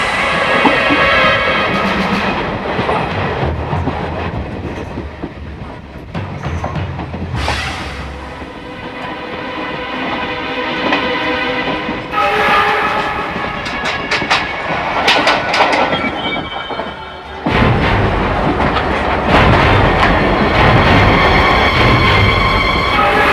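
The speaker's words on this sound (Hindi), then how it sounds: "अब 2-3 सेकंड में ट्रेन स्टेशन पर आने वाली है।" A train pulls into a station, steady rumble with rhythmic clickety-clack of wheels on rails and some squeal, loud and continuous throughout, with a brief dip in the noise partway through.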